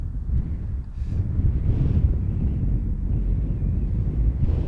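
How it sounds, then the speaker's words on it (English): Steady wind buffets an outdoor microphone at a high-school girls' tennis match, a continuous low rumbling roar with gusts swelling and easing throughout, loud and close with no clear voices. "I think it's getting windier up here"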